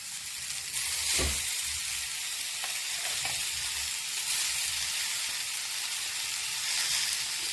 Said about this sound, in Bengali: এবার আমি শাকগুলো দিয়ে দেবো